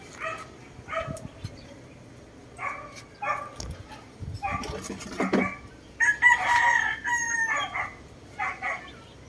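A pure Boston gamefowl rooster crows repeatedly in short bursts, fairly close, with a dog barking intermittently among the calls.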